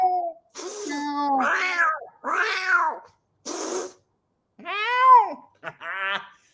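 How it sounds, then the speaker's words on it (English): A voice gives a series of drawn-out meows, sometimes in pairs, with short breathy sounds between them, close and fairly loud. "Cat. Meow. Meow. Meow. Meow."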